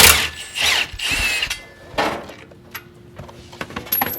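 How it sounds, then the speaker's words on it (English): A power tool zips out 16 millimeter driveline bolts on a Mini Cooper All4 during rear axle work, with several short whirring bursts and clacks of metal between them, close and fairly loud. "Taking out these 16 millimeter bolts to get the driveline off."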